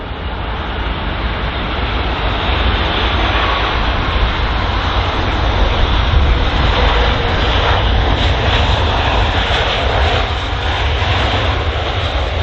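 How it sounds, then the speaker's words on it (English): A British Airways A320-200 arrives at London Heathrow, its jet engines producing a loud, sustained roar with rushing broadband noise that holds steady and swells slightly midway, heard alone without voices. "Just arriving now is this British Airways A320-200 coming from Manchester."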